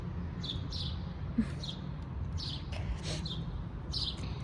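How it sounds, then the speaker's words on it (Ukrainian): A small bird sits close by, giving a series of short high chirps in irregular bursts over a quiet outdoor background. "така пташка тут сидить."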